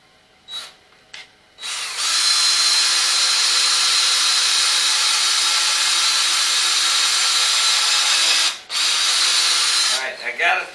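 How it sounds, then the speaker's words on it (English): A screw gun fitted with a countersink bit drives a screw into a small antique table: a loud, steady motorized whir running for several seconds, preceded by a few light knocks and ending with brief handling noises. "attach this to your screw gun, all right, like so, and then you find where you're gonna put the screw in"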